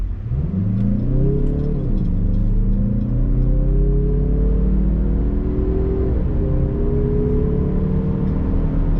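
A Mazda CX-30 crossover's engine pulls steadily from low revs while driving, with rising and falling harmonic drone across a gear change and continuous road rumble, loud and close with no talk.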